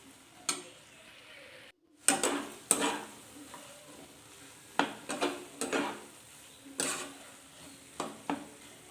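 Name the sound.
water added to fried chickpeas and mutton fat sizzling in pan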